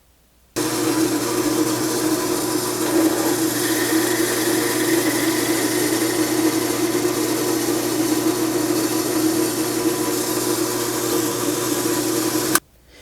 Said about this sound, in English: I have to drill a hole into our blank so we can screw it onto the anvil